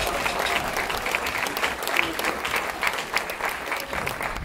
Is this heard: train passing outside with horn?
no